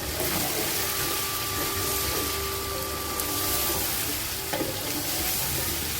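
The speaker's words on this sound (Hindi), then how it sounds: "साथ ही हम अपने मसाले डाल देते हैं ताकि हम पानी डाल के इसको अच्छी तरह से भून सकें।" Tomatoes and spices fry in a pan for chickpea pulao, giving a loud, continuous sizzle with a faint tonal whine and occasional stirring clatter.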